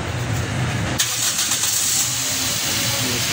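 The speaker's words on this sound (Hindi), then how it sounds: "गाड़ी हमारी ऑफ-रोड स्टार्ट हो चुकी है" A Toyota Corolla GLi engine, freshly filled with 10W40 ZIC X7 oil, cranks briefly and catches about a second in, then settles into a steady close idle with no talking.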